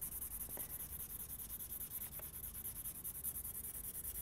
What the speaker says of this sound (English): I'm going to quickly put down our graphite pencil.